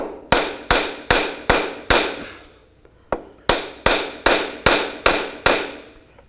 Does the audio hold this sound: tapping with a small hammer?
yes